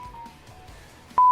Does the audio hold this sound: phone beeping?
yes